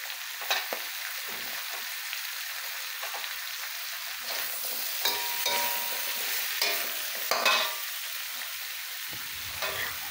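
Sliced chayote and carrots stir-fry for chop suey, giving a steady soft sizzle broken by several scraping stirs of the utensil against the pan, with no talk.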